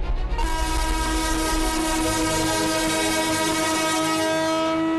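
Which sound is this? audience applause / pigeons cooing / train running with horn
train running with horn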